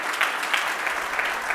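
Short stretch of audience applause for an award winner at a technology event, dense even clapping from a crowd, fairly loud and close.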